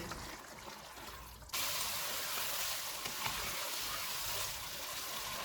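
Mutton frying in oil over a medium flame until the oil separates, a continuous close hiss and sizzle that steps up abruptly and then holds steady, with no voices.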